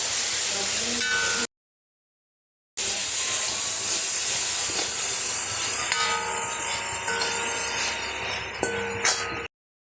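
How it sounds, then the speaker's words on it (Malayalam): Squid, cooked beforehand, frying and being stirred in a pan, heard as a loud continuous sizzle and hiss with a few utensil clinks and scrapes, broken by a short silent gap. "ഇനി ഇത് നല്ലപോലെ ഇളക്കി ഫ്രൈ ചെയ്തെടുക്കുക."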